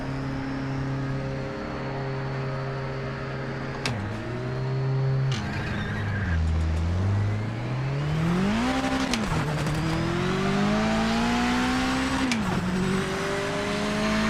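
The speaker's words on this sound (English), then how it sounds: "Look at the Porsches. Holy shit. They got some acceleration on them." Race car engines in a racing video game rev hard, rising and falling through gear changes with a deep drone underneath. Pitch dips at shifts and then climbs sharply as the cars accelerate, and a brief tire squeal comes mid-way.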